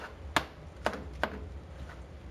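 A kitchen knife slices vegetables into pieces on a cutting board while preparing chicken Marsala, giving three crisp, separate chops close by with short pauses between them over a low room hum.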